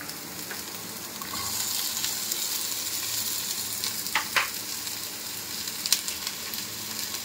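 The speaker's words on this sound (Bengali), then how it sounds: "ভালো করে ভেজে নেব, ভেজে চাউটা দিয়ে দেবো" Boiled chowmein with potato and carrot frying in a pan, a steady close sizzle with occasional spatula scrapes and brief pops, no talking.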